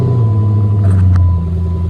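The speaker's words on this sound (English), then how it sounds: "I'm finna start it up and see what it sound like." Car engine with a newly installed loud intake, rumbling deep and steady at close range, loud throughout with a slight rise mid-clip, no voices.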